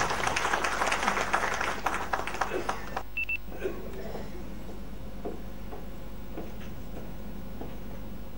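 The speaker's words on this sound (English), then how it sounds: "Can we have a huge round of applause for her?" Audience at a government function applauding for a speaker, a burst of crowd clapping that fills the first three seconds then stops abruptly, leaving a quiet room with faint scattered knocks and rustles.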